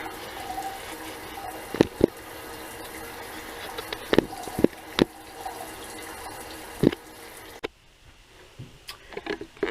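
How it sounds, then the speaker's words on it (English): Cold water running down a drain pipe while a drain is being cleared, a steady rushing flow with occasional sharp knocks and clunks, cutting out near the end to a quieter trickle. "So you let clean water run down the pipe as you pull this out and feed it."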